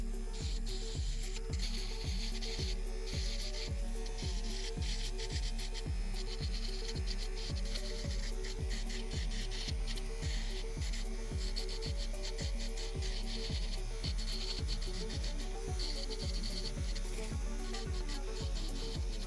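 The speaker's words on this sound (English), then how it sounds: "I'm going to take this circular cuticle drill bit and I'm going to work this around the cuticle" An electric nail drill fitted with a circular cuticle bit works around the cuticles during a gel nail set, giving a steady, continuous grinding whir with a regular pulsing rhythm, close and alone with no talk.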